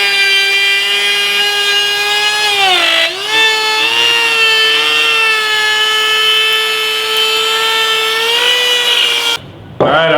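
A router bit cuts around the inside edge of a wooden picture frame with a loud, continuous high whine whose pitch dips briefly as it bites. The motor then cuts out abruptly near the end.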